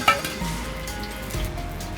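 Fritters made from doubled flowers fry in hot oil with a steady, close sizzle, and a brief metallic clink of a utensil comes at the start.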